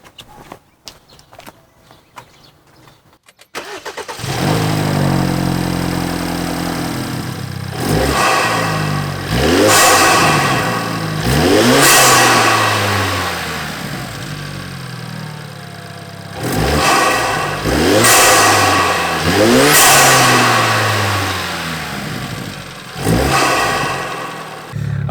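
A BMW engine fitted with an MST air intake starts after a few quiet seconds and then revs repeatedly. It rises in loud, close swells and drops back toward idle between the bursts.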